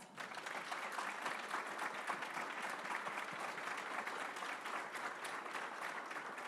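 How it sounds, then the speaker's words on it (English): A round of applause from the audience at a candidate forum, steady and fairly soft, a continuous crowd of clapping hands from start to finish with no speech over it. "Can we give them a round of applause?"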